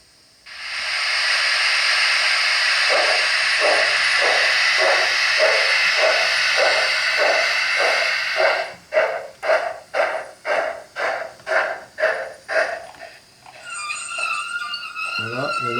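A model locomotive rolls onto a 24-metre model turntable, a steady steam-like hiss giving way to rhythmic chuffing pulses that quicken and fade, with a brief rattling whir at the end.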